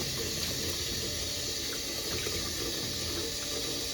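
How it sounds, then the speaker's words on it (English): A potato is washed with a sponge under running tap water, a steady, even hiss of flowing water close by with faint scrubbing and no talk. "I'm just going to wash it"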